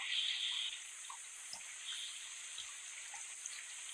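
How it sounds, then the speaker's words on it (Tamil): Steady hiss of rain falling outside, with a few sharp drips and drops landing close by, no talking. "மழை வேற பெய்யுது"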